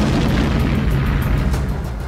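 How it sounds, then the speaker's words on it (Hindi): A Russian warship's front section explodes under suicide drone strikes, producing a loud, continuous deep roaring rumble with a heavy low boom that carries on without a break. "उस जंगी जहाज पर भयंकर विस्फोट होता दिखाई दिया"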